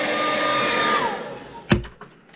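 A hair dryer blows steadily up close to dry airbrushed paint on a 1.5 square bill fishing lure, its whine dropping in pitch before it switches off, followed by a sharp knock and a few faint clicks.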